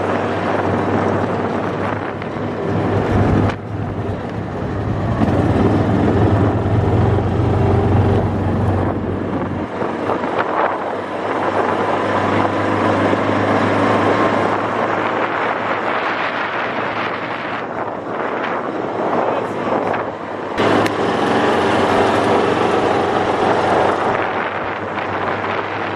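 A restored John Deere Gator 4x2 utility vehicle driving fast, heavy wind buffeting the microphone over a steady engine hum, with short gusty bursts throughout.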